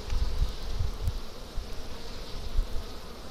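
Honey bees buzz in a steady, dense hum inside an opened hive's honey box, close and continuous, with a few soft handling bumps.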